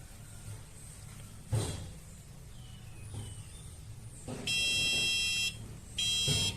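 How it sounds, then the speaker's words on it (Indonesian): A fire detector's electronic alarm buzzer on a server rack sounds in two steady blasts, a long one then a shorter one, loud and shrill over a quiet background with a few soft knocks. "yang tadi adalah alarm pada pendeteksi kebakaran"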